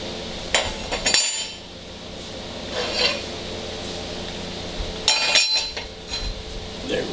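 Heavy steel leg flanges set down on a welding fixture table, giving a few sharp metallic clanks and clinks spaced apart, fairly close, with quiet shuffling between them.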